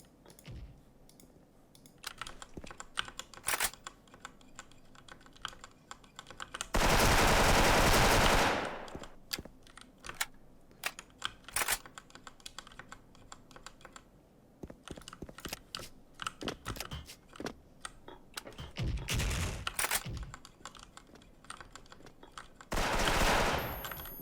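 M4A1 rifle fire in the Special Force video game: a few loud bursts of automatic gunfire, the longest near the middle, separated by steady computer keyboard clicking and tapping.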